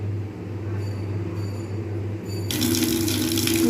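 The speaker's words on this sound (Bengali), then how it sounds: "বেগুনটাকে ভালোভাবে ধুয়ে নিচ্ছি" A whole eggplant rinsed under a running kitchen tap, a constant low water rush that grows louder and splashier partway through as the vegetable goes under the stream.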